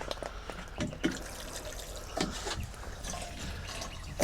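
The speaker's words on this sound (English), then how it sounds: "just put a little bit of water" Water poured from a watering can into the bottom of a seedling tray, a soft, uneven trickle and splash with a few louder spills, close by and without talk.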